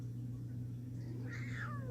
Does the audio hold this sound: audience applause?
no